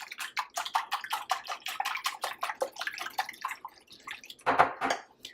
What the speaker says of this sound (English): Give that a mix with the eggs.